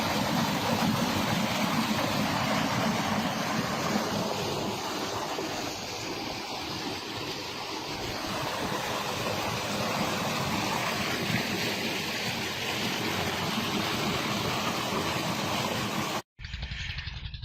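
Heavy water gushing from the outlet of a solar-powered tubewell pump with a 5-inch delivery, a steady loud broadband rush close by that continues without a break until it cuts off abruptly near the end.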